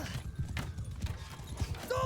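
Cavalry horses thunder along in a video game battle, a dense rapid clip-clop of many hooves with a brief whinny near the end, loud and continuous.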